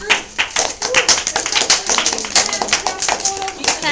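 A classroom audience of schoolchildren claps for a student group after a school performance, uneven close-up hand claps with children's voices chattering over them.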